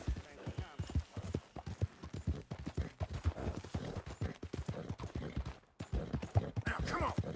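A horse in Red Dead Redemption 2 clip-clops along in a steady, rhythmic trot of hoofbeats, moderately close, with speech intermittently over it.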